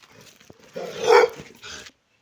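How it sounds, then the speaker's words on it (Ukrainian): A single dog's bark or yelp rises sharply in the middle, close and fairly loud, with softer whining sounds around it, at a girls' camp. "Не бійтесь собак."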